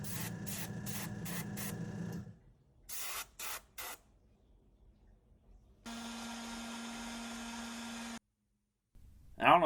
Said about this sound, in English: I decided I wanted to put a little bit of red on the end of the crankbait just to make it stand out a little more